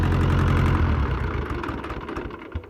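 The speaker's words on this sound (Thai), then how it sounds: "เอาเดี๋ยวดับเครื่องก่อน" A 4WD farm tractor built for working between sugarcane rows shuts its engine off: a loud, low, steady diesel rumble that weakens and breaks into uneven throbs as it dies away, with no talk.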